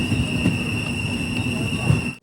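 Tatanagar Express train running on the Ernakulam to Jamshedpur route, a steady rumbling rail roar with a sustained high whine throughout, heard from inside a carriage with faint voices in the background.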